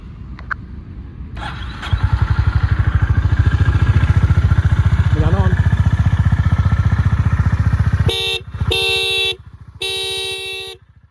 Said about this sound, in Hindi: तो ये डुअल हॉर्न है, हाई एंड लो दोनों टोन के हॉर्न लगे हुए हैं।